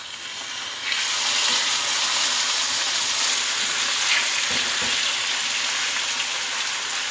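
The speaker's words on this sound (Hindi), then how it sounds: "चिकन को जो है अब हम फ्राई कर लेंगे और साथ ही इसमें लहसुन और अदरक डाल दूंगी मैं" Chicken fries in a pan with onions browned to a light golden color, producing a continuous hissing sizzle that jumps louder after the first second and holds steady, with faint clinks underneath.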